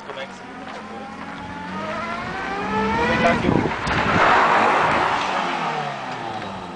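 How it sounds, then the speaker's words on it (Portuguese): Farm tractor engine revving up, its pitch climbing and falling in waves, loud and close, while someone talks over it. "Agora a gente vai ligar o trator."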